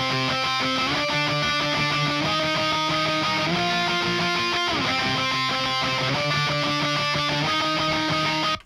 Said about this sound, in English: And then we have the middle guitar, which is just this.